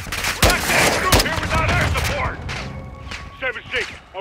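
Heavy gunfire rattles through a Call of Duty: Modern Warfare 2 firefight, sharp loud cracks early then sustained bursts, with shouted radio talk running over the shooting.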